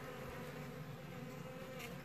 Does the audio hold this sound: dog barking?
no